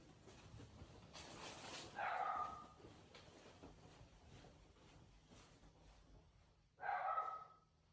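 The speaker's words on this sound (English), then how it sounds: "Let me go close my door so I can get rid of this barking." Two separate loud dog barks, a few seconds apart, ring out from a nearby room over a faint, hissy indoor background.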